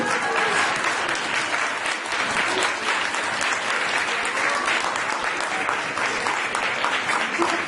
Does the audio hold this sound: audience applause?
yes